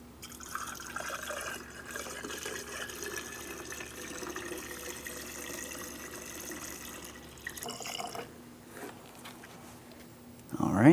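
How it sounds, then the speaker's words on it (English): Coolant trickling through a funnel into the reservoir of a 2003-2007 Cadillac CTS 3.6L V6, a soft steady liquid pour and gurgle up close, fading near the end with a brief clatter. "We're filling the coolant up to that line with the manufacturer's specified coolant."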